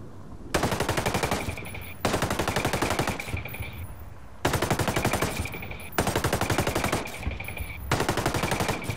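Sustained machine gun fire in Ghost Recon Breakpoint comes as long, loud, rapid bursts of evenly spaced shots, each lasting about a second and a half, separated by short pauses.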